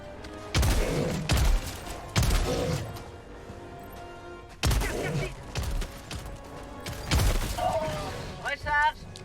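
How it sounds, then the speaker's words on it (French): An orbital strike in the game Helldivers 2 lands as four heavy, booming blasts spaced a couple of seconds apart. Each blast is loud and close with a crashing tail, and a brief rattling whine follows at the end. "la frappe orbitale sur ma gueule"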